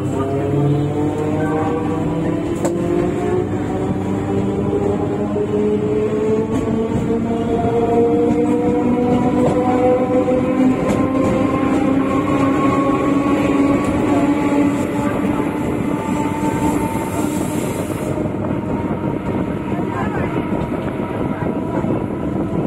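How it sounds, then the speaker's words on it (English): An express train hauled by a WAP-4 electric locomotive rushes through a station platform at speed, a loud continuous roar with rising and falling tones, steady rumble and rail noise close by. "train will be passing from platform number 3."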